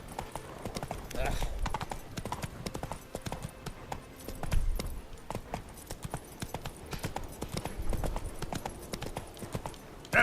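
Hoofbeats of Geralt's horse Roach clip-clopping at a steady pace through The Witcher 3 game world, a continuous rhythmic patter with occasional louder thumps, heard alongside a voice.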